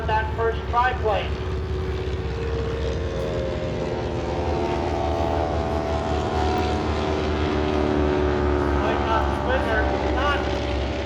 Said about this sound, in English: The Bristol fighter now firing on that first triplane.